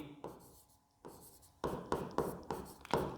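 Marker or chalk writing on a classroom board during a maths lesson, a series of short scratchy strokes that start sparse and turn into quicker, louder bursts near the end.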